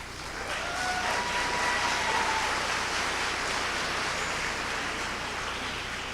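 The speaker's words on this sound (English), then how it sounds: "You can clap." Audience applauding at a recruit class graduation ceremony, a dense, steady wash of clapping from a crowd that swells quickly and holds loud throughout without letting up.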